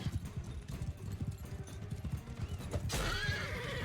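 Rhythmic hoofbeats clatter before a horse lets out a loud, shrill whinny near the end, amid background noise from the game Mount & Blade II: Bannerlord.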